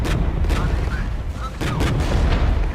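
Heavy artillery booms in the military strategy video game Regiments, several muffled thuds and blasts in quick succession over a constant low rumble of battle.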